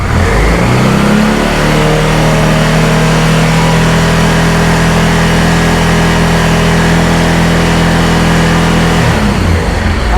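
A Honda Transalp XL600V motorcycle engine is held at high revs for about nine seconds during carburetor synchronisation, a loud, steady droning roar that cuts off abruptly at the end.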